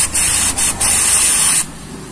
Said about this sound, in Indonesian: cukup kita semprot-semprot aja pakai karburator cleaner.